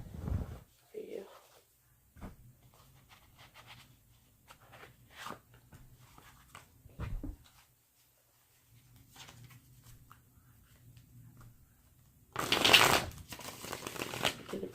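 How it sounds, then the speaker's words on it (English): Tarot cards riffle and shuffle in soft, quiet bursts with pauses between them, ending in a louder flurry of card handling, while a person speaks quietly in between. "Let me pull some more cards."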